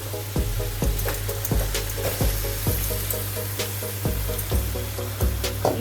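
Marinated chicken sizzles loudly in hot masala for Kolkata chicken biryani, a steady frying hiss broken by regular scraping strokes of a spatula, close and with no talking.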